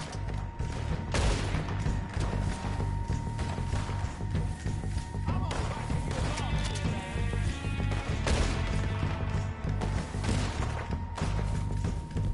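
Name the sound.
gunfire in video game Red Dead Redemption 2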